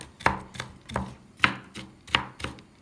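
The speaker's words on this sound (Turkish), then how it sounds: "Üstünden tekrar bıçakla iyice inceltiyorum, ufaltıyorum." A knife chops walnuts steadily on a board, six sharp cutting strokes in an even rhythm, close and clear with no talking.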